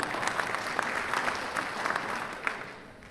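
Canned applause set off from an applause handle during a coaches' call, a dense burst of clapping that swells with scattered sharper claps, then tapers off toward the end.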